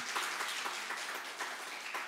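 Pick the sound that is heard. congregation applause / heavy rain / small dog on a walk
congregation applause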